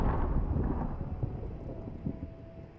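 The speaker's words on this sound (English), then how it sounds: "Fireworks? Maybe they're celebrating something." Fireworks go off in the game Dreamfall, heard as low, rumbling booms and crackles that fade slowly, with no voices.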